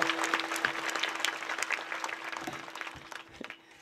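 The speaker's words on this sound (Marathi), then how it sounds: "टाळ्या वाजून स्वागत करा एकदा छत्रपती" An audience claps for the arrival of a man dressed as Chhatrapati Shivaji Maharaj at a Shiv Jayanti kirtan, dense close applause with individual claps standing out over a steady tone, gradually thinning and fading toward the end.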